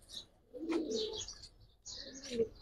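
A round-headed, old-breed Giribaz pigeon coos in two soft, close bursts separated by a brief pause, with no talking.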